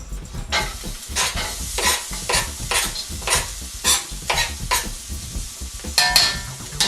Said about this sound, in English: So we whack the onion in.